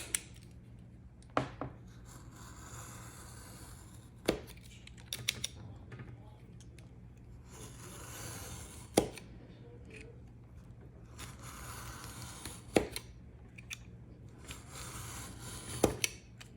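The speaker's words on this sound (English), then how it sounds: "We're going to take our razor knife and go nice and slow" Razor knife drawn slowly along a ruler to cut notebook material, a series of short, sharp scraping strokes spaced a few seconds apart over quiet room noise, close by.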